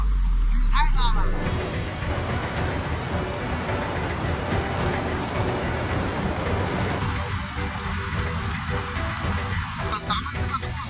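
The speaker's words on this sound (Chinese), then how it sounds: "雨太大了" Heavy rain from a thunderstorm pours down on a rural rabbit-farm site, a steady dense hiss throughout with a loud burst at the start, while people talk over it.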